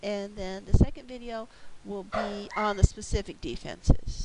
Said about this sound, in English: Yep, that's my dog barking